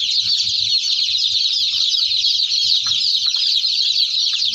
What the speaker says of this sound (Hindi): अभी आपको कुछ कुछ चिक्स जो हैं वो नज़र आ रहे होंगे गीले गीले